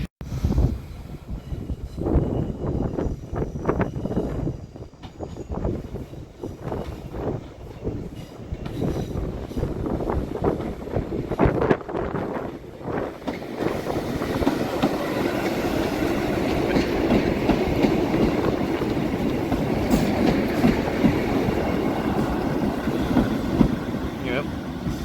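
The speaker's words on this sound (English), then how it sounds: "that's the train heading to Swansea." A train heading to Swansea passes near Tenby, starting with a rhythmic clickety-clack of wheels over rail joints and settling into a broad, sustained rolling rumble, with voices talking beneath it.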